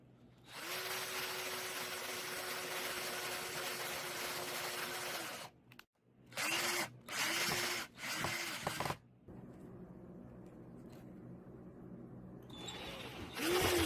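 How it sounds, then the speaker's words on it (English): Power drill boring holes in a rabbit cage frame, several bursts of steady whirring with short pauses between them, close and fairly loud, then quieter motor hum near the end. "I'm going to drill my holes."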